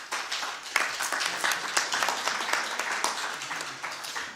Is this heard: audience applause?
yes